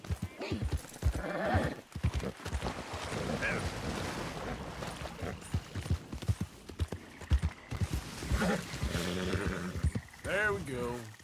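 Hoofbeats of a horse named Ruby in the video game Red Dead Redemption 2, uneven clopping that surges and pauses, mixed with a voice speaking to the horse and some rushing ambient noise.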